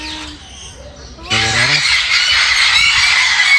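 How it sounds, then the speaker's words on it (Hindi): Parrots, macaws among them, screeching loudly in a large zoo aviary, a harsh dense chorus that swells suddenly and continues unbroken, with a voice briefly before it. "बहुत शोर मचा रहे हैं तोते।"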